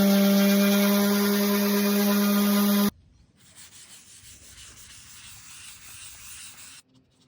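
Power sanding of a live edge wood table throws off sawdust. A steady, loud motor whine with strong tonal hum runs for about three seconds, then gives way to quieter, continuous abrasive rubbing.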